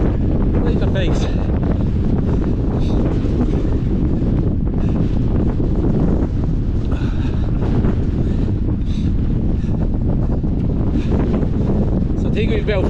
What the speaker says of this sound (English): Wind is right in the face.